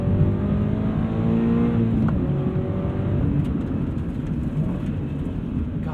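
A 2016 Toyota GRMN86 engine revs during a heel-toe downshift, a loud, steady engine drone heard from inside the car with a brief rise partway through.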